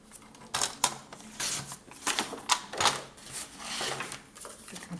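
Paper is cut for a scrapbooking folio, heard as close, irregular snipping and crunching strokes of varying loudness with no talking.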